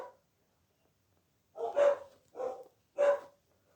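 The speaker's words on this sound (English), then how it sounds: "Sorry, that's my dog barking." Dog barking indoors, one faint bark, then after a pause three separate barks in fairly quick succession, moderately close and alone.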